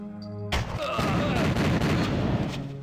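An explosive barrel blows up in the N64 game Winback, a sudden loud blast that cuts in after a brief quiet stretch and rumbles on as dense crackling debris and fire for over two seconds.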